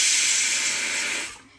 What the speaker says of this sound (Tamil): ரியலி விஷ் நான் அந்த குக்கர் சத்தத்தை ஆஃப் பண்ணிவிட்டு இந்த ரெசிபி உங்களுக்கு காட்டலான்ட்டு. பிகாஸ் புஸ்ஸுன்னு உங்கள் காதில் சத்தம் கேட்டுகிட்டே இருக்கும்.